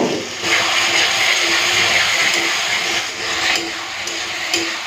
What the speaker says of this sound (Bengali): জলটা দিয়ে মশলাটাকে ভালো করে কষে দিই।